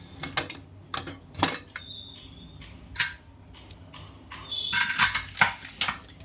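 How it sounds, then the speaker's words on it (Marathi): A cooled pressure cooker being opened in a home kitchen gives sparse metallic clicks, clanks and scrapes of lid and vessel, with brief hissy bursts near the end, quiet and close with no talking. "कुकर गार झालाय आता आपण कुकर खोलूया"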